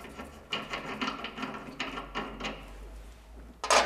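A nut being loosened and taken off a Hammer A3 jointer-planer during a changeover to a mortising chuck: a run of close, clicking metallic ratchet-like turns, ending in a brighter rattle as the nut comes free.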